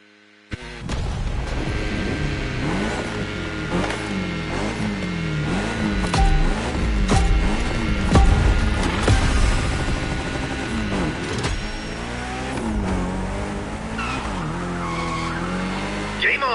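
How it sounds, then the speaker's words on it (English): A Mitsubishi Lancer Evo X drifts in The Crew Motorfest, with loud, continuous tire squeal and a revving engine rising and falling over the whole stretch, with no pauses. "Can you get all steezy with your slide? And how long can you maintain your drift?"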